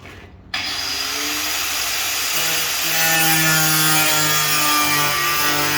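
A power tool bites into a panel to cut off a strip, starting abruptly after a brief silence, then whining continuously with a droning tone that rises and strengthens as the cut goes on, close and loud.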